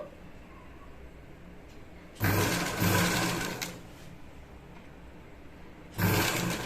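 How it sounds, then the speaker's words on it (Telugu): Sewing machine stitching a neck piece on a garment, running in two loud bursts of a second or so each, separated by quiet gaps with low room hiss. "ఇలాగా చివరి దాకా స్టిచ్చింగ్ చేసుకోవాలన్నమాట"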